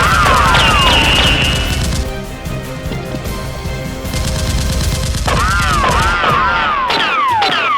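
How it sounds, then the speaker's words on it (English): Rapid toy Nerf gun firing during a staged resort raid battle, a loud continuous clatter of shots mixed with swooping whistle-like effects and crashing impacts. "Jack leapt out, firing rapidly at the soldier."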